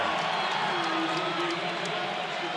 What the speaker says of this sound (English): That brings a rise out of the crowd.